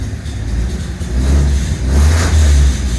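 A 1948 Dodge flathead six with shotgun dual exhaust revs up close and loud, its deep rumble swelling twice in quick blips over a low, throaty idle.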